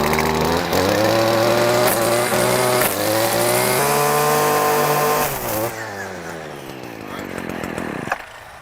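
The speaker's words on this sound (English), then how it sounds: "what does the interaction of that weed eater line to the fencing look like?" Weed eater spinning roughly 95-thousandths-inch trimmer line against a chain link fence, a loud continuous high-pitched motor whine with harmonics that drops away near the end, no talk.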